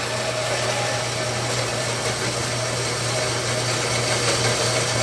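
A metal bandsaw cuts through steel in a blacksmith shop, producing a continuous, even mechanical drone with a steady hum and grinding hiss and no pauses.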